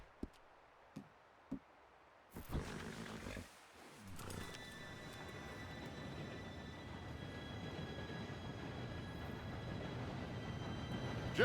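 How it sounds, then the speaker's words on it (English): In Red Dead Redemption 2, a train approaches after a few sharp clicks, growing into a sustained rumbling roar with a faint high whistle-like tone running through it. "Train should be here any minute now."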